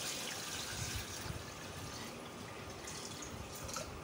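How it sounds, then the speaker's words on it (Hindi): Water runs steadily into a cooking pot holding beef for harisa, giving a continuous soft splashing pour throughout. "पानी डाल दें इसमें"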